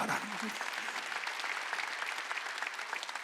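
A congregation claps continuously during a Korean Wednesday church worship service, producing a dense, steady roar of many hands that fills the whole stretch at an even loudness.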